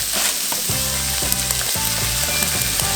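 Kimchi and cheese fried rice sizzles loudly and steadily in a hot pan, with close, rhythmic scraping strokes of a spatula about once a second over the hiss and no talking.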